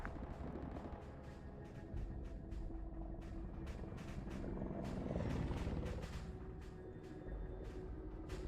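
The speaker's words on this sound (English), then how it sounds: "there is 2 helos in the air above OBJ2" Two helicopters hover overhead in a military video game, heard as a faint, continuous low rotor rumble with scattered soft clicks and no speech over it.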